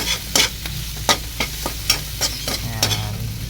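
Shrimp frying in a pan until golden brown for pancit canton, close sizzling under repeated scraping stirs at an irregular beat, with no talk.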